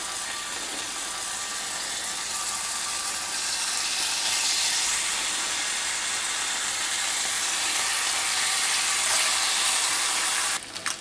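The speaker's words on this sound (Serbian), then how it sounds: "I sada ide ova varena slanina koja će malo da prska." Boiled bacon sizzles and spatters in a frying pan, a dense, continuous hiss and crackle at steady loudness throughout, with a few clatters right at the end.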